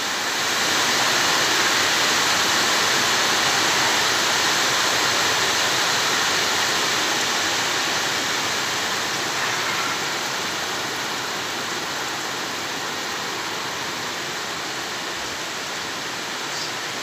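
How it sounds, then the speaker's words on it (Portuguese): Heavy rain pours onto clay roof tiles in a constant, even hiss and patter that holds steady and loud for the whole stretch, fading only slightly toward the end, with no talking. "Muita chuva, muita chuva."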